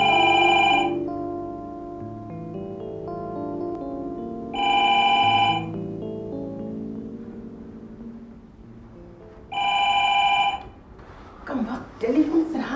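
A telephone rings three times at steady intervals, each ring loud and near, over low background music in a classic Pakistani drama.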